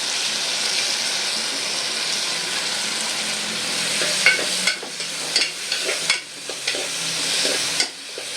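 Onion, ginger garlic paste and curry leaves frying in a pressure cooker make a loud, steady sizzle. Later, a spoon stirs the pot with scraping strokes and clinks against the metal, with no one speaking.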